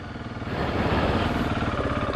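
KTM 690 Enduro R single-cylinder motorcycle engine running close by, a loud throbbing pulse that rises slightly as the throttle opens, no talking.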